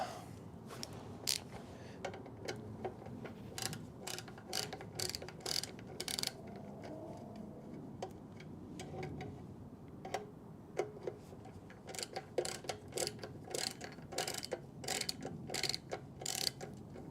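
A hand ratchet backs screws out of Toyota 2JZ engine parts, giving bursts of quick sharp clicks in rapid series separated by short pauses. The clicks are close and fairly quiet, with no voices.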